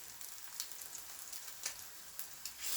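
Fish cutlets fry in a hot pan with a steady, fine sizzle and crackle, sharpened by a few brief louder pops, heard close and alone.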